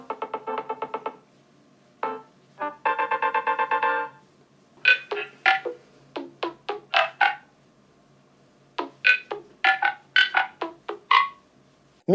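An electronic ringtone from a Nothing Phone 2a plays alone: rapid buzzing pulses at first, then a melody of short, bright chiming beeps.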